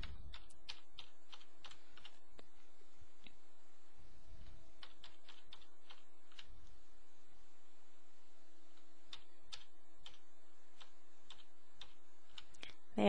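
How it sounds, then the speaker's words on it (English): Keyboard keys, including the bracket key, pressed repeatedly on a computer during photo editing, giving a string of quick, light clicks in short bursts over a steady faint hum, close and fairly quiet. "And you just have to click the bracket as many times as necessary to bring it"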